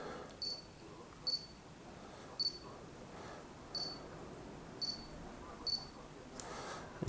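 Autofocus on an Olympus 45mm f/1.8 lens mounted on a Panasonic Lumix GX7 gives six short, faint, high-pitched whirring chirps at roughly one-second intervals against quiet room noise.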